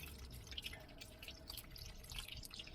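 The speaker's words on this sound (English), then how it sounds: "I better leave that drip in there." Water dripping from a pipe in a camper van heating system, faint irregular drips and trickling against a low hiss, quiet and close.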